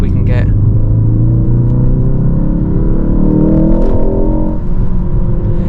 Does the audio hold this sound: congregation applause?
no